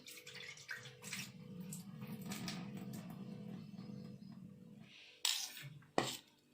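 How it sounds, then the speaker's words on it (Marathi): Water pours off a pot of washed Indrayani rice in a kitchen, a steady close splashing stream lasting several seconds, followed by a couple of short clinks and splashes. "हेही पाणी ओतून देऊया."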